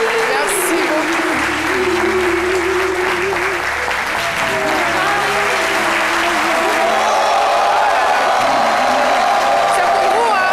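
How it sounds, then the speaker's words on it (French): Studio audience on a French midday TV show breaks into loud sustained applause and cheering, dense clapping throughout while a voice speaks over it. "C'est pour vous qu'ils applaudissent."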